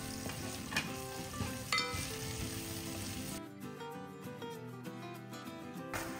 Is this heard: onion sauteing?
yes